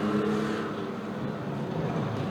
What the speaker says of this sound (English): Simon Bland's car sounds like it's gone. Oh no, he's found another gear.